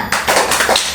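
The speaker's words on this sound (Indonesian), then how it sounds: "Gini tepuknya, tepuk semangat." Children's rhythmic 'tepuk semangat' clapping chant in a classroom lesson: a few sharp hand claps in quick rhythmic succession, close and loud.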